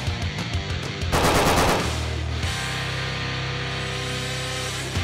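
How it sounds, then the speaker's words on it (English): Fully automatic machine gun fire: rapid bursts of closely spaced shots for about two seconds, then a sustained loud roar of continuous fire with a steady low drone to the end, heard alone. "there's nothing more exciting or rewarding to shoot than a fully automatic weapon"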